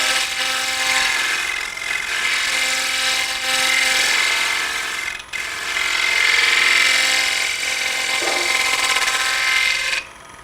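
A router trims wood with a pull cut on a woodturning setup, making a loud, steady, close high-pitched whine that holds for about ten seconds before cutting off abruptly.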